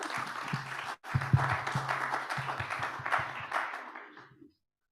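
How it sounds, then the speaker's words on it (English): An audience at an online streaming event gives a round of applause, dense clapping with a brief gap near the start, then thinning and tapering off to silence after about four seconds, with a few low thumps mixed in. "Round of applause, please."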